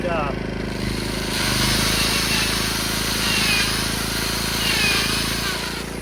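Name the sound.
portable generator running in eco mode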